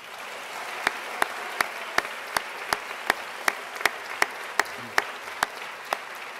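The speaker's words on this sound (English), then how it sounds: "I'd like to invite all of our graduates to acknowledge the support that you have received by applauding the" Graduates at a graduation ceremony applaud their attending family and friends: a steady wash of crowd clapping with sharp, evenly spaced louder claps punctuating it throughout.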